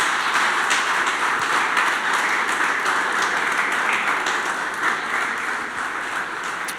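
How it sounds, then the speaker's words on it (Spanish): A church congregation claps together in sustained applause, a dense, even wash of hands fading slightly toward the end, with no talking. "Dale un aplauso por eso al Señor."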